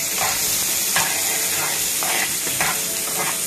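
Food being stirred in a sizzling frying pan, a continuous hiss of oil broken by several rhythmic scraping strokes of the utensil, close and steady with no talking.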